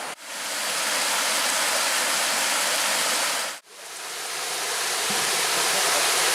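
Waterfall at Track Falls in the Porcupine Mountains, Michigan, roaring as a steady broadband rush up close, with one brief dip partway through before the loud, constant flow resumes.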